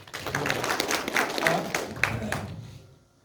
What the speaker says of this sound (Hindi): साथ के लिए ताली बजाइए।